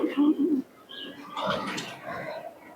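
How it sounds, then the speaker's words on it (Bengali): Pigeons released at a pigeon-flying tournament in Shantipur, with a loud cooing burst up front followed by softer bird calls and chirps over a busy outdoor background. "এই হচ্ছে পায়রা চারটি উঠে গেল আটটায় পায়রা ওড়ানো হলো দেখুন"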